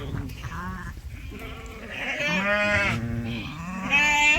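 Several sheep bleat close by, overlapping wavering cries one after another over a quiet outdoor background.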